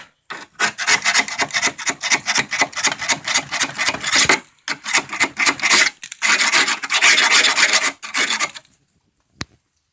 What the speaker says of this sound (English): that's been cleaned up with the palm sander and everything